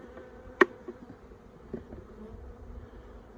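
Honey bees in a Flow Hive brood box hum faintly and continuously close by, with a brief sharp knock near the start.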